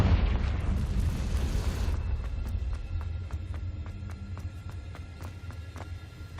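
Explosion from the Confringo fire spell in the video game Hogwarts Legacy, a loud, roaring blast that fades into a low rumble with faint, regular clicking, with no talking.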